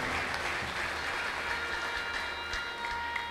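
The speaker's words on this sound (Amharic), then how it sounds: "አጨብጭቡ ከዚህ በላይ" Sustained applause from a church congregation at a prophetic worship service fills the space, dense and steady for several seconds, with no voices standing out.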